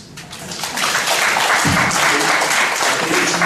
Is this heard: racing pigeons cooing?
no